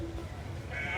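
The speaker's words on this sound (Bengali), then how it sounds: "বেশ হৃষ্টপুষ্ট দুম্বা এগুলা।" A fat-tailed dumba ram at a cattle market gives a brief bleat amid crowd murmur and market noise, close and moderately loud.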